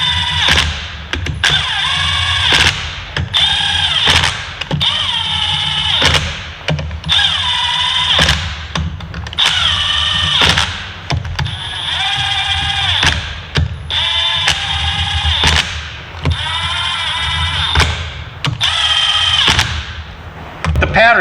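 A power tool runs down the engine case bolts during a crankshaft install on a Polaris XCR 600 SP triple snowmobile engine. Repeated short, loud bursts come up close in a steady on-off rhythm.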